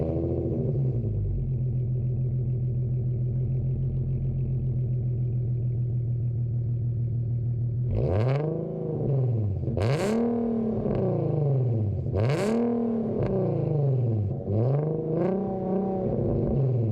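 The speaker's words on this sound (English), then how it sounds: "first I'm gonna show you a startup video of how the car sounded like before I got my custom built exhaust" Infiniti Q50 with its VQ engine and stock exhaust, first settling into a steady low idle after startup, then a series of sharp throttle blips that rise and fall in pitch, loud and close.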